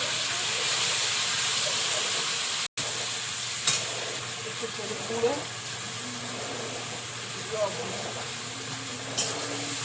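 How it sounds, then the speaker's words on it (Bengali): Spice masala fries with a constant close sizzle and hiss in a pan while it is stirred, with occasional soft spoon scrapes and clicks breaking through. "এবার মশলাটা একটু নেড়ে চেড়ে কষিয়ে নিতে হবে"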